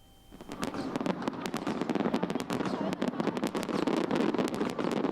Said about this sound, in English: To ring in 2014, an 8-minute firework display lit up the harbor